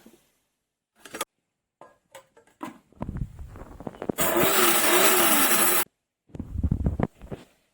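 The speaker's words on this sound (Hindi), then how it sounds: "अब हम इसको अपने मिक्सी के जार में डालेंगे और इसको हम पाउडर नहीं बनाएंगे, इसको हम मोटा मोटा ग्राइंड करेंगे।" Clinking and shuffling of coriander and cumin into a jar, then a mixer grinder roars loudly for under two seconds, grinding coarsely, before stopping, followed by more rattling.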